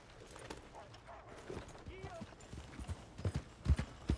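Horses in the Red Dead Redemption II video game clip-clop past, their hoofbeats growing louder and heavier toward the end over soft background game ambience.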